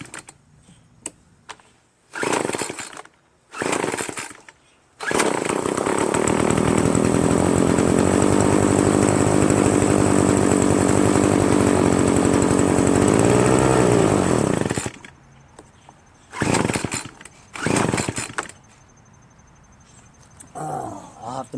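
A Troy-Bilt TB320BV gas leaf blower engine runs on choke for about ten seconds with a loud, steady two-stroke drone, then cuts out, leaving only short sputtering bursts.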